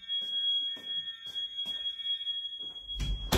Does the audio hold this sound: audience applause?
no